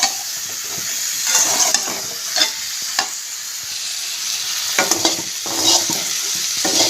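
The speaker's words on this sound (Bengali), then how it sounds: "চিংড়ি মাছ ভাজা হয়ে গেছে, নামিয়ে নেব।" Prawns fry in a kadai with slit ripe red chillies in a home kitchen, giving a steady close hiss of sizzling oil broken by repeated scraping clicks from a stirring spatula.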